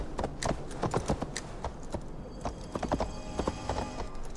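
Horse hooves clip-clop in a rapid, irregular rhythm in the Assassin's Creed Valhalla video game, close and steady, mixed with a neigh, with no talking.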